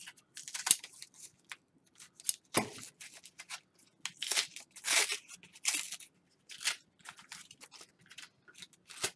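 Repeated crisp snipping and crinkling bursts, close by, as scissors cut through plastic coin packaging holding mercury dimes, in irregular spurts with short pauses.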